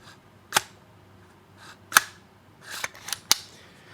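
An AR-15 rifle action cycles by hand, giving a handful of sharp, close metallic clicks and clacks with brief pauses, including the distinct knock at the end of travel.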